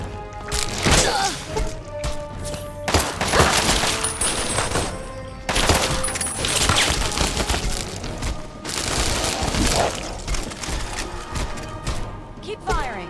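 Gunfire in the Fallout 3 and New Vegas games, with repeated sharp shots and bursts in quick, uneven volleys, joined by crashing and splintering impacts and sustained close and loud throughout, under occasional talk.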